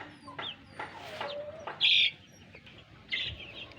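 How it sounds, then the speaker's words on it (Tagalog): Crossbreed Chinese silkie and native chickens let out a handful of short, separate clucks and higher calls, spaced irregularly and fairly quiet against a low background. "Chinese chicken, Chinese silky chicken, at saka native chicken guys"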